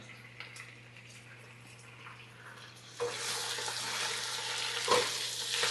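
Spinach cooking in a pan with Italian sausage for rigatoni, a quiet hiss that jumps to a louder, steady sizzle partway through, heard close with no talk.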